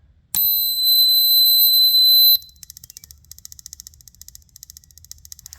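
X-PEST AR28C ultrasonic rodent repeller, switched on via USB, giving a sustained piercing high beep for about two seconds followed by rapid, faint, repeating high chirps.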